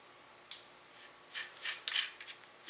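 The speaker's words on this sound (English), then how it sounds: "go ahead and cut open the coolant filter right there" Aftermarket coolant filter on a Ford F250 6.0L diesel being cut open, giving faint, scattered scraping and rasping strokes close by with no one talking.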